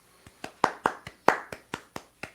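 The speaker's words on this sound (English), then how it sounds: "Again, this would have been much better with 4 people clapping." One person clapping hands, about nine separate claps in a steady rhythm, close and fairly loud, alone with no other sound.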